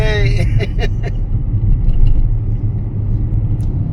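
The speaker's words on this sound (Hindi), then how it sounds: "तो भाई साहब हमारी अब गाड़ी दौड़ रही है" Car driving along a mountain road in Uttarakhand, a steady low engine and road rumble heard from inside the vehicle throughout, with people chatting over it.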